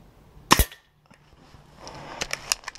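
A Black Ops Soul Langley air rifle fires once at a 20-metre target, giving a sharp, loud close crack, followed by quieter clicks and mechanical handling sounds.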